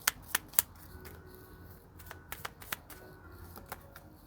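Angel oracle cards are shuffled by hand, a few sharp flicking snaps at the start followed by quieter riffling and tapping, close and fairly soft, with no voices.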